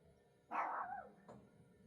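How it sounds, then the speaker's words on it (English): A dog barks outdoors, one longer bark followed by a shorter second bark, both distant and moderately loud over a quiet room at a workbench. "Somebody left a dog out."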